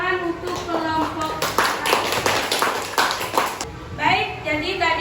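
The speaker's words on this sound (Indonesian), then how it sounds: "Tepuk tangan untuk kelompok." A primary school class claps for a group after a science lesson on the lungs: a burst of many small hands clapping quickly and unevenly for a few seconds, with a teacher's voice heard before and after it.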